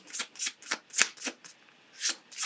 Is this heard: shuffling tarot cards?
yes